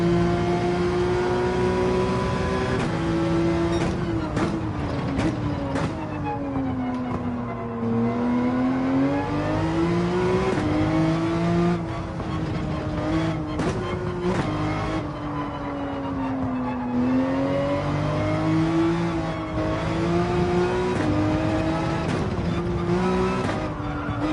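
Car engine of a vehicle being driven in Gran Turismo 7, a loud continuous engine drone whose pitch rises and falls with acceleration and shifting throughout, with occasional tyre noise.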